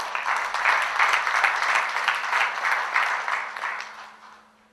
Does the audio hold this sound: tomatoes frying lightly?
no